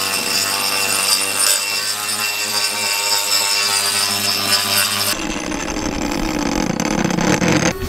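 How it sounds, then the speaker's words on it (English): An angle grinder fitted with a cup wheel grinds material away in a loud, harsh, continuous roar whose tone shifts abruptly midway as the wheel bites differently. "This cup wheel, man. It really takes material off fast and easy, effortless. The grinder doesn't have to work too hard."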